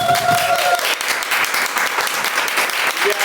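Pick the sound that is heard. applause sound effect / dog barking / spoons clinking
applause sound effect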